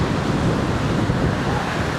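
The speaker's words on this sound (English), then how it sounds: "The ocean is super close here right now." Ocean waves at My Khe Beach in Da Nang before a storm, a steady broad roar of surf mixed with wind buffeting the microphone, with no one speaking.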